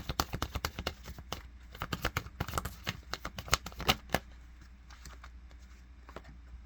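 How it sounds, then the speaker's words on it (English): A deck of oracle cards being shuffled by hand, a rapid run of close, crisp riffling flicks and taps that slows and thins toward the end, with no voices. "I'm going to go back into the Words Your Light deck for one more card, or whatever comes out."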